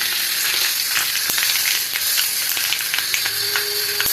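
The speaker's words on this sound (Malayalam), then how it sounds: "കടുക് പൊട്ടി." Mustard seeds splutter in hot oil, a loud continuous sizzle dotted with sharp little pops and crackles.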